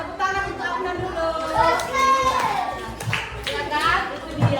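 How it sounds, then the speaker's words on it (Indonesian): Children in a classroom clap for a classmate in a short, scattered round of claps while a voice and children's chatter carry on over them. "Tepuk tangan untuk Afnan dulu."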